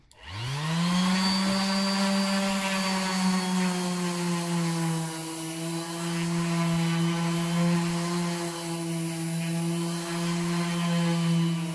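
A sanding machine runs over a wooden cupboard door in a workshop with 120-grit paper, spinning up then holding a steady loud whirring drone throughout, with no voices.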